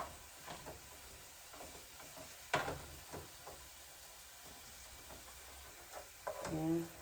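Ground beef sizzling in a pan as it is broken up small, a faint steady hiss with a few scraping stirs and light clicks, quiet and close, while a person talks over it.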